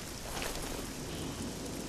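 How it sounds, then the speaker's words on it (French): Steady rain in the video game Oblivion pours down continuously, a dense even hiss with no breaks. "Oh, il pleut toujours."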